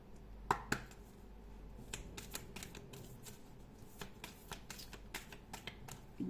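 Tarot cards are shuffled and drawn close by, giving repeated sharp riffling snaps and slaps in an irregular rhythm over a quiet background.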